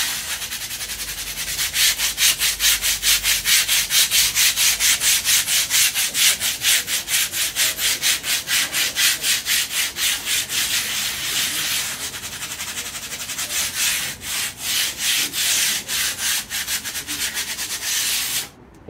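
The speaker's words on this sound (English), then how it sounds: "any defective areas, any fibers that have been left sticking up, you can simply sand these back" A fibreglass roof is sanded back by hand, with loud, close, rhythmic rubbing strokes repeating steadily for nearly twenty seconds, briefly pausing near the end.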